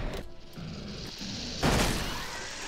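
A shotgun blast in the video game ELEX 2 lands as one loud, sudden burst partway through, with a short decaying tail, following a stretch of quieter in-game ambience.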